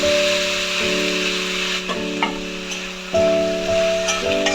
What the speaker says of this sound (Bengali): ওটাকে আমি এবার ভেজে সব আলুগুলো আমি দিয়ে দিলাম এর মধ্যে